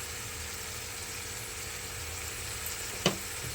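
Mushroom curry with salt and a pinch of turmeric sizzling in a pan, a steady close crackling fry throughout with one brief sharp clink near the end.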